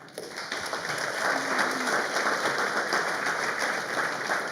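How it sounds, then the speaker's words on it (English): An audience at a high school graduation ceremony gives a round of applause, a steady wash of clapping that holds at an even level for a few seconds. "To the families here today, give yourselves a round of applause."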